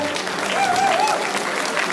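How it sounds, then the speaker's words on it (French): Brief burst of audience applause for champions at a prize-giving ceremony, dense clapping with a crowd murmur and a voice briefly audible over it. "Marc Léry, Fabien Cali, Jean-Luc Rouget, allez, on applaudit cette belle brochette de champion."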